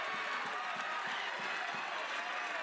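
Baseball crowd at an NCAA Tournament game between Oklahoma and Nebraska cheers and applauds after a Huskers single, a steady broad roar of clapping and voices filling the whole stretch.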